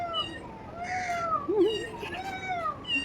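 A cat gives several drawn-out, wavering meows one after another, loud and close, and one call rises into a yowling wail.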